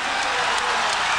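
Boxing arena crowd in 1990 cheering and applauding after a title-winning knockout, a loud, dense roar of voices and clapping filling the hall without a break.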